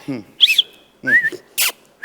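A whistle sounds in a stage comedy performance as a few short, shrill blasts that alternate with people talking and exclaiming between them.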